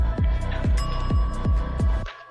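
A bell struck repeatedly in an even rhythm, five sharp rings about half a second apart with a sustained ringing tone, then stopping abruptly.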